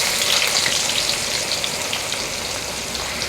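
Chopped onion hits hot oil with cumin and fries, a loud dense crackling sizzle that holds steady from start to finish, close up and with no voices.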